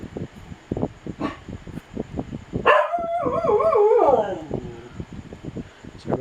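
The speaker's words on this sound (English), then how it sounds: "Sorry about the dog." A dog yips and barks repeatedly, then lets out a long wavering howl that trails off into more scattered barks nearby.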